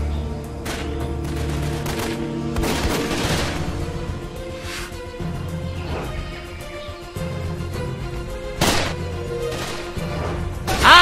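Enemy gunfire in the jungle shooter game Raven Squad, with repeated sharp gunshot cracks and bursts over a continuous musical and ambient bed, some shots nearer and louder than others.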